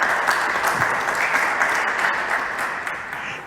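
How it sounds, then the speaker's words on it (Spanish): A church congregation gives sustained applause in praise of Jesus Christ, a dense, even roar of clapping hands that continues throughout. "Denle un fuerte aplauso a nuestro Señor Jesucristo"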